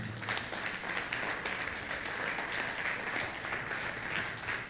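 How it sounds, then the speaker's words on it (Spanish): A church congregation claps steadily through a Sunday worship service, a dense, sustained applause from a large crowd filling the room without a break. "¿Cuántos le dan un aplauso al Señor?"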